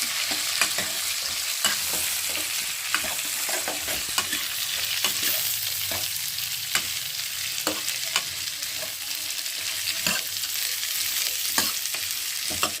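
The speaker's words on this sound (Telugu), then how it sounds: "కరేపాకు ఏం వేసుకున్నాక క్యారెట్ అలానే ఉల్లిపాయ వేసుకున్నాం మొత్తం బాగా కలుస్తాను" Carrot, onion and curry leaves frying in a pan while being stirred, giving a continuous close sizzle broken by regular scraping and clinking strokes throughout, with no talking.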